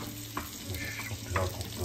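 Corn flour roasts in a pan with oil for muhlama, a steady soft sizzle with light scraping of a spoon stirring close by, no voices.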